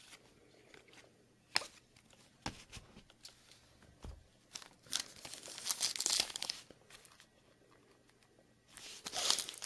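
A foil pack of 2012 Topps Finest football cards torn and crinkled open up close, sharp scattered crackles and rips that build into a denser burst of crumpling near the middle and again at the end.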